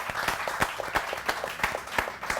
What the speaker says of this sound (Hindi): माविया के लिए बहुत सारी तालियां।